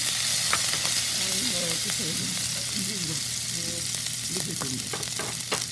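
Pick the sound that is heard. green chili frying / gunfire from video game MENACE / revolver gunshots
green chili frying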